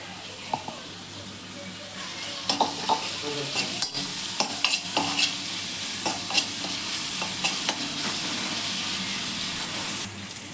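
Green chili paste is stirred and fried in a pan for festival cooking, giving a continuous hissing sizzle broken by frequent sharp spoon scrapes and taps against the pan.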